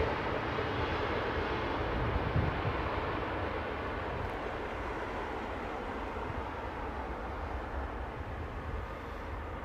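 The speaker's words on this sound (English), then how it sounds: "PW4000s, dual engine start." Twin Pratt & Whitney PW4000 engines spooling up together on an airliner at London Heathrow, a steady, broad roaring rumble heard from a distance, holding nearly level throughout with no voices.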